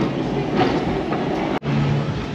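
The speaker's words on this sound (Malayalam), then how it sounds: "അങ്ങനെ അടുത്ത ട്രാം എത്തുന്നുണ്ട് ഒരു ഗ്രീൻ ട്രാം വരുന്നുണ്ട്" Continuous loud rumbling and clatter of a tram running through a New Zealand city street, steady and close, with a brief dropout near the end and no talking.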